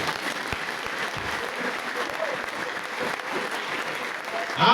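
A church congregation bursts into applause during a sermon, sustained clapping from many hands filling the room, with a louder surge at the very end.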